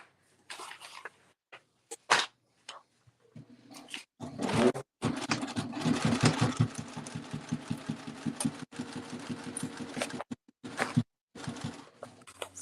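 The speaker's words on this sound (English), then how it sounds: "I'm going to sew my two lining pieces together" A sewing machine stitches exterior pieces of a crossbody bag together, running in a steady mechanical whir for several seconds between short starts and stops, close up and loud with no talking.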